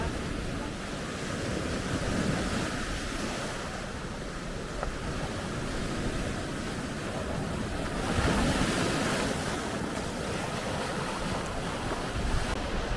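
Sea surf washes continuously onto the shore beneath cliffs on a sunny autumn day near Bridlington and Danes Dyke, with the broad roar swelling in two or three waves and wind buffeting the microphone.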